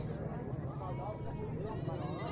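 Goats bleat repeatedly amid a busy outdoor crowd at an animal market in Banyumas, Indonesia, before Eid al-Adha, with people talking throughout and animal cries rising over the chatter.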